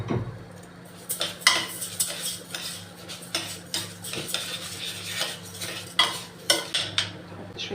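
Half a kilo of rice goes into a pot with butter and is stirred, producing repeated gritty scrapes and metallic clinks of a spoon against the pot in an uneven rhythm, close up with no speech.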